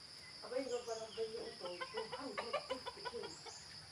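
A chicken clucks in quick, excited bursts while being chased by a dog outdoors, with steady insect buzzing in the background and a faint voice.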